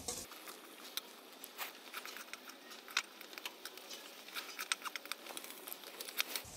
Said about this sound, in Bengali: মটরশুঁটিটাও এখন সব উপকরণগুলো একসাথে আবারও একটু ভেজে নিচ্ছি।